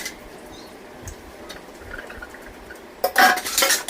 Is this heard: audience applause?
no